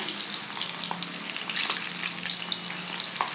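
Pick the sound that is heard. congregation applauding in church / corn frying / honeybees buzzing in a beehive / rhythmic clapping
corn frying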